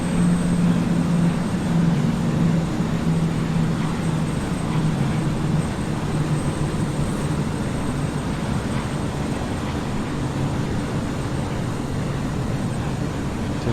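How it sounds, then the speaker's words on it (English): A BAE 146 jet in a flight simulator game drones steadily as its engines spool down, the low engine tones gradually easing and fading over the span with no talking. "Hear the engine's starting to spool down as the flaps come in."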